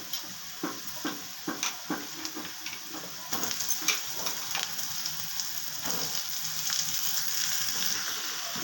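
Mixed vegetables added to softened onion in a frying pan, first with a few distinct sizzling splats and stirring taps, then a steady close crackling fry.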